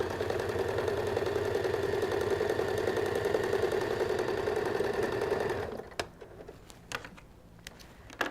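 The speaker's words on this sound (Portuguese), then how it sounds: "Aí eu vou costurar. Vou até costurar com uma folguinha." Sewing machine stitching fabric for a panettone holder, a steady fast continuous whir for several seconds that stops abruptly, followed by a few faint handling clicks.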